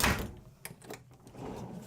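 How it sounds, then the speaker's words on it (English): Refrigerator drawers sliding open and shut in the galley of a Dufour 460 Grand Large sailing yacht, with a soft thump first, then several light clicks and rattles, close by. "Check this out. Fridge drawers. Two generous sized drawers here."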